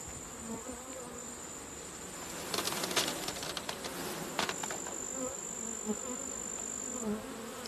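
A steady hum of many honey bees buzzing close by, with a constant high whine and occasional brief rustling bursts.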